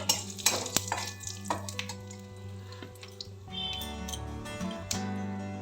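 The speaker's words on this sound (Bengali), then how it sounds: "এবার সরিষার তেল দেব একটা ফোড়ন দিতে হবে তিনটে শুকনো লঙ্কা আর সিকি চামচ পাঁচ ফোড়ন ফোড়নের জন্য দিয়ে দিলাম একটু নেড়ে নেবো" Dry red chillies and a quarter spoon of panch phoron stirred in hot mustard oil, a quiet crackle and scrape with a few clicks of the spoon against the pan, fairly faint and close, no talk.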